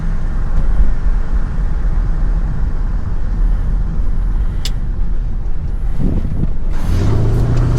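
A first-generation Porsche Cayenne S V8 rumbles steadily while driving, a deep continuous engine drone mixed with road noise, close and loud throughout, with a brief swell in low growl near the end.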